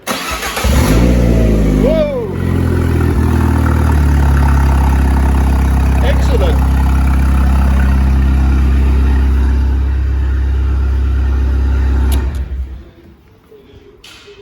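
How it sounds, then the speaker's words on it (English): A 2010 Ford Ka Titanium engine, freshly replaced and running with no exhaust fitted and no coolant, cranks and catches at once, then idles loud and raw for about twelve seconds before cutting off. A man exclaims briefly over the engine. "Well, that started up easy enough."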